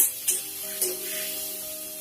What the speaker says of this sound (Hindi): यहाँ पे थोड़ा सा नमक हम इसमें डाल देंगे। इसे 2-3 मिनट तक हमें भूनना है।